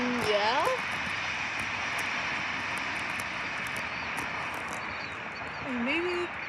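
Airplanes flying overhead at night give a steady, distant engine drone that lasts throughout, while people talk quietly close by.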